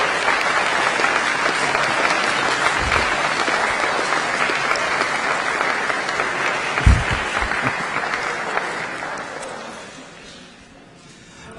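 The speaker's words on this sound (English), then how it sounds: "A quick round of applause for Becky." A roomful of guests at an annual awards dinner in a formal hall clap steadily for several seconds, then the applause thins and fades away, with a few knocks and murmurs underneath.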